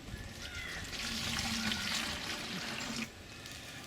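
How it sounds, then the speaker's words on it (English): Water poured into a hydroponic container, a soft steady splashing trickle for about three seconds that then cuts off, faint and close. "And then we just put a bit of water in there."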